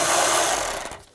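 A ratchet driving an 8mm socket clicks quickly on a screw while a coolant reservoir is removed from a 2011-2019 Ford Explorer, one short close burst that fades out after about a second.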